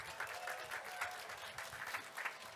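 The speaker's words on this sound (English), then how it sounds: "Big round of applause, please," Audience clapping at a STIHL Timbersports British Pro Championship as a hand-chop competitor takes the stage, a fairly faint, steady patter of applause with uneven pulses, no clear voices.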